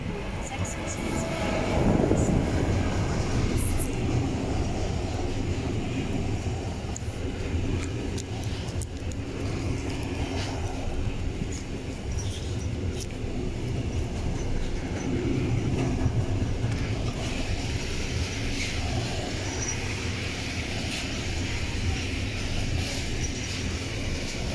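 Trains at Magdeburg station before a GDL strike: a steady, broad rumble of rail traffic and platform ambience fills the whole stretch at an even loudness, with faint voices mixed into the background.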